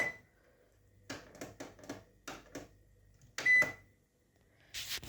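Button presses and beeps on a Cecotec 3D Wave Proclean 5120 mirror microwave oven, a run of short clicks and taps followed by a single clear beep, with a brief rustle at the end.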